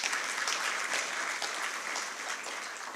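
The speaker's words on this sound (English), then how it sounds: "Can we have a round of applause for her" An audience claps steadily for a panelist being introduced at a global health financing policy forum in Doha, a dense, continuous wash of applause that holds level throughout.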